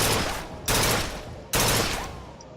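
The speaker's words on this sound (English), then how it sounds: "So this one, you can aim down your sights, but it's burst fire." Burst-fire rifle shots in the video game Bioshock Infinite, two sharp loud bursts about a second apart, each decaying into a fading echo, with no talking.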